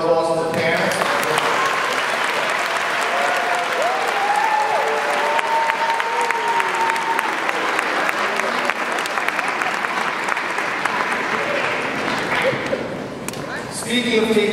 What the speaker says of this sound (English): How about a nice round of applause for the parents?